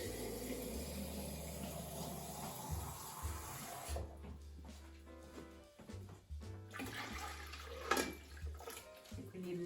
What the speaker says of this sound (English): So I'm going to need some more water, which I'll get hot from the tap.